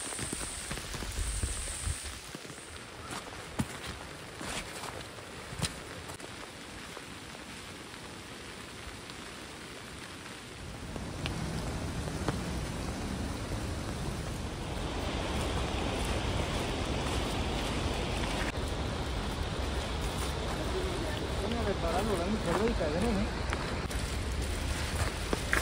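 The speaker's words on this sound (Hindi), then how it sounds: "अभी बारिश होने लग गई है, काफी जोर से बारिश हो रही है" Heavy rain falls steadily on the mountain trail from Chaumasi toward Kedarnath in thick fog, a broad continuous hiss that swells louder and denser midway through, with no talk.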